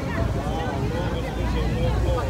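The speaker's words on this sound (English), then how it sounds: "the wind's picking up, and we're coming up to the American side" Strong wind roars steadily across the microphone aboard a Hornblower boat cruise at Niagara Falls, a loud continuous rush with no clear speech over it.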